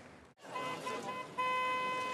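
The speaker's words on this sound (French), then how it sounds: "Arrête de klaxonner à chaque fois, papa" A car horn sounds in two steady honks, the second longer and louder, against a quiet background.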